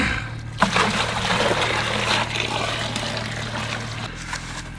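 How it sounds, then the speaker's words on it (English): Liquid iron and humic acid mix strained through a bag, a close steady trickle and splash of liquid pouring for about four seconds, with a low hum underneath. "Strain this one more time."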